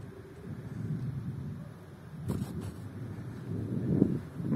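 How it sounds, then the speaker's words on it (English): Strong wind buffets the microphone outdoors at a glider flying spot, a low, steady roar with gusts swelling and a sharp burst near the end, with no talking. "Hard wind."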